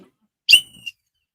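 A single short whistle blast rings out clearly around the end of a Louisville game, high and piercing with a brief second chirp, then silence.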